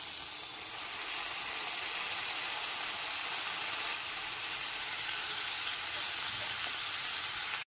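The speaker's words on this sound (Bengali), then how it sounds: "লো টু মিডিয়ামে রেখেই সমস্ত মশলাটাকে খুব ভালো করে কষিয়ে নিচ্ছি" Spice paste with softened tomato fries in a pan over low to medium heat, giving a steady, close, hissing sizzle that holds at an even level throughout.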